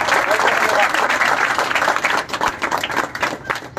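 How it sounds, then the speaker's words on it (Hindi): A crowd claps steadily, the applause loud and dense at first and thinning slightly toward the end, with voices mixed into it. "ताली बजाओ"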